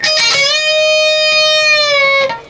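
A sustained electric guitar note bends upward in pitch, holds steady, then releases back down, ringing clearly with a few pick attacks at the start.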